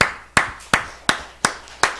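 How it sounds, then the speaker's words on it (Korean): A preacher claps his hands five times at an even, steady pace during a Sunday church service, each sharp clap close and distinct with brief quiet between them. "그런 여러분에게 제가 박수 쳐드리고 싶어요."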